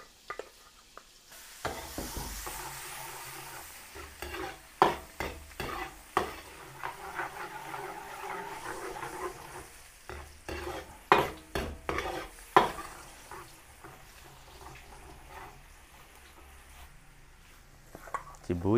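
Garlic sizzles in Star margarine in a pan while being stirred, with repeated scraping and clinking of a utensil against the pan over a steady frying hiss, fairly close.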